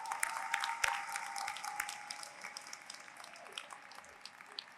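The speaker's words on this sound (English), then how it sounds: "If we can just give another round of applause for Brody for coming with us today." A student crowd at a university welcome day gives a round of applause, heard as faint, scattered clapping that thins out and fades with a few louder claps standing out.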